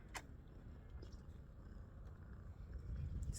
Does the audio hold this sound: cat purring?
yes